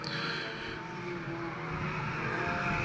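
Four-cylinder race cars run on a track in an afternoon race, a constant distant engine drone with a whining tone that swells slightly as the pack moves, no talk over it.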